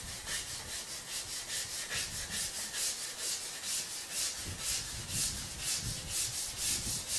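Steady back-and-forth rasp of 220-grit sandpaper worked by hand over glazed plastic, rhythmic strokes repeating about twice a second, close and fairly quiet with no talking.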